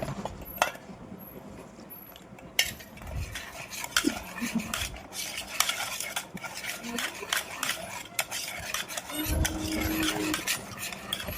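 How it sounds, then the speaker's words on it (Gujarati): Semolina dhokla batter being stirred by hand in a bowl, with scraping and clinking of a utensil against the side throughout, plus a few brief sharper knocks, fairly close and steady. "જ્યાં સુધી પૂરી સોજી પલળી ના જાય ત્યાં સુધી મિક્સ કરી જવાનું"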